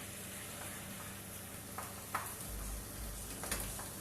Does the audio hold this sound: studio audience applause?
no